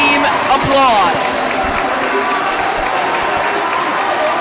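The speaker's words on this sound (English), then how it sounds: "Crowd is loud as they give this team applause." Loud crowd applause in the gym during a high school 6A basketball playoff game, steady clapping and crowd noise throughout with an announcer talking over it.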